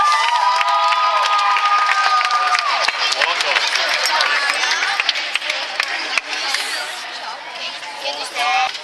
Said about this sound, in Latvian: Aplausi, meitenes!